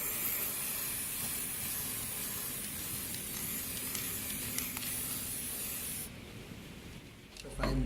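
Clear coat is sprayed onto a restored fog lamp, a close, steady hiss that runs unbroken for about six seconds before cutting off.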